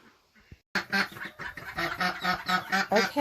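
A mother duck and her brood of fourteen ducklings, just gathered into buckets, call in a loud, busy chorus of quacks and peeps that starts abruptly after a brief quiet moment and continues in rapid, overlapping bursts.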